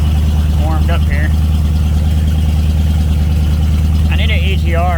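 A car engine fitted with an MSD Digital 6 Plus ignition idles loud and close as it warms up, with a steady pulsing drone throughout and a few brief squeaky sounds over it.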